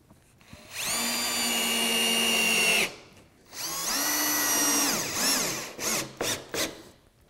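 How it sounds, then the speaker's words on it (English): A cordless power drill driving screws into wood, two long whirring runs that bog down as each screw seats, followed by several short trigger bursts, loud and close. "So now I just need to drive in a couple of screws."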